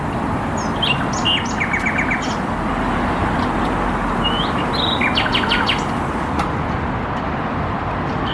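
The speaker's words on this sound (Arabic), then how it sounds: "العصافير تزقزق" Sparrows chirp in quick bursts of short, high tweets over a steady roar of passing road traffic, in a park in Turkey.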